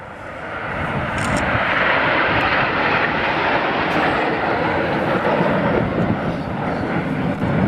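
Red Arrows jet aircraft tightening into a 4G turn at the Perth airshow, a loud, steady broadband jet roar that swells in the first second and then holds close and continuous throughout.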